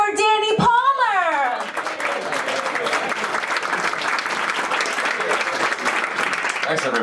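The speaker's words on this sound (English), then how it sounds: "Clap it up for Danny Palmer!" A voice shouts an introduction at a comedy club, then a packed audience breaks into sustained applause that carries on at a steady level.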